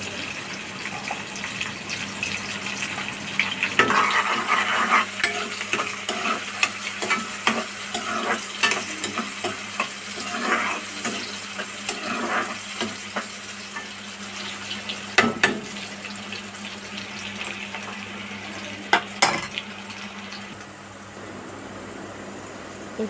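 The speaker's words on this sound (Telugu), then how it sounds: "బాగా బ్రౌన్ కలర్లోకి వచ్చే వరకు ఫ్రై చేసుకోవాలి." A single onion frying in a pan until brown gives off a steady soft sizzle, close by. A spoon scrapes and clinks now and then as it is stirred, with no one talking.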